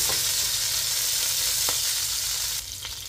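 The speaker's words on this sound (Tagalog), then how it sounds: "dito na rin tayo magigisa ng bawang sibuyas natin" Garlic and onion sauté in a hot pan, giving a steady, close sizzle with a few faint stirring clicks and no talk.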